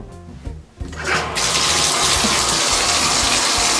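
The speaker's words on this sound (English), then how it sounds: "I started your bath, but I didn't turn off the water" A bath tap is turned on and gushes into a bathtub, a few knocks and splashes giving way to a loud, steady rush of running water filling the tub.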